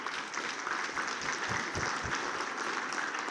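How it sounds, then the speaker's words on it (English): Audience applause at a public safety forum in Nashville, a steady wash of many hands clapping, moderately distant and even in level for its whole short span. "He needs a round of applause."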